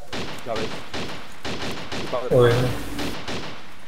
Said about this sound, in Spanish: qué tiroteo